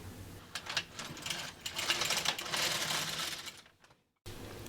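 An LK150 knitting machine carriage is pushed across the needle bed in mechanical, ratcheting passes while knitting a triangle shawl with eyelets, the clatter swelling and fading with each row before a brief silence, then resuming.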